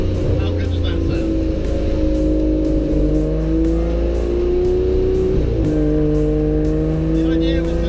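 Aston Martin GT12 racing car engine roars loudly and steadily, climbing in pitch through revs before a sharp gear change near the end, then pulling again, heard close up from the car.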